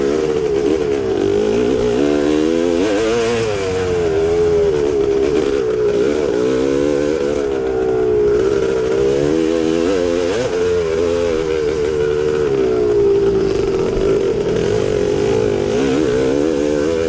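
A 1974 Yamaha MX360 vintage two-stroke motorcycle ridden off-road in a vintage cross-country race, its engine note loud and close, rising and falling as the rider works the throttle continuously.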